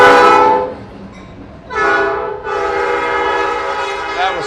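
A nearby locomotive running alone on tracks in Norcross blasts its loud horn in two long blares, with rumbling engine and rail noise underneath as it passes.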